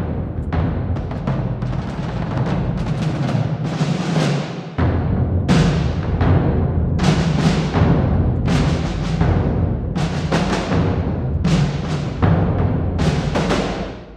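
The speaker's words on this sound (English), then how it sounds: "Check out my cinematic drum loops volume 1." Cinematic drum loops played through the Spitfire Aperture Cassette Symphony instrument, loud booming hits with long decaying tails in a steady, driving pattern, heard alone.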